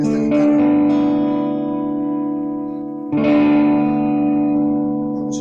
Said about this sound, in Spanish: todo el espectro de sonidos que tiene esta guitarra